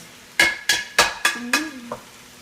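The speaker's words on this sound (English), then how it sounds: "I'm going to saute the veggies" Five sharp utensil strikes against a pan in an even rhythm, close and clear, with a short tonal scrape at the end while vegetables saute in basil olive oil, with only faint sizzle beneath and no voices.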